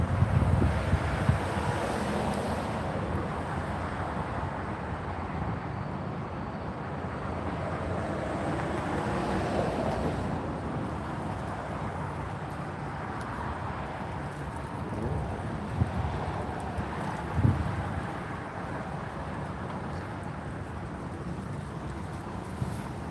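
Steady wind roars and buffets the microphone in low rumbling gusts, with a faint watery wash underneath and no talking.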